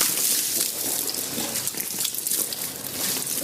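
Running water splashes steadily and fairly close, a continuous broadband rush like a tap or pour, alone with no talk over it.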